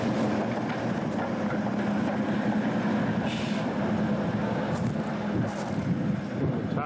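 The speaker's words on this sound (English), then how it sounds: "We have the shunter or switcher doing its thing." A tank-type shunter locomotive on a British steam railway works a string of railroad cars, giving a steady, continuous rumble and clank of rolling stock with occasional brighter squeals and hiss, moderately close and unbroken throughout.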